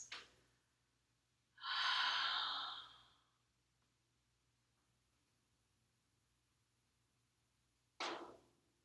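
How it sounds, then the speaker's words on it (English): Two deep, audible breaths drawn and released through an open mouth during a seated chair yoga sequence, a long sighing exhale in the middle and a shorter one at the end, close and clear in a quiet room. "open up the mouth and breathe through the open mouth. Big cleansing, clearing breaths."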